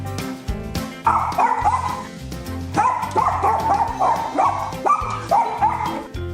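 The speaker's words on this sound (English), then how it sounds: "Intruder alert! Barking intensifies." A tiny dog barks repeatedly as an intruder alert, its high yapping bursts coming in clusters over a steady background, close and fairly loud with no talking.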